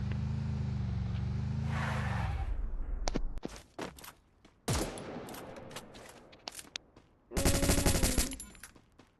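Rapid bursts of gunfire from the Free Fire video game crackle in several separate volleys, with a vehicle engine humming at the start and a dense final burst near the end; no one speaks.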